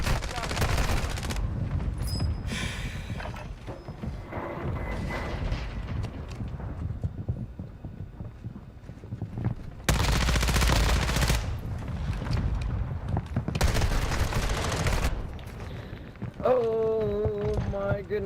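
Explosive mortar strikes and bursts of automatic gunfire in a video game's Crucible match: heavy, dense barrages that surge and fade, with spoken voices over the din.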